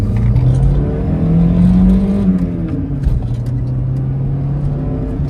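A cheap, worn VW Golf with a 62 kW engine accelerates on the road, a loud, steady droning hum that rises in pitch and then settles, heard from inside the car with no talking.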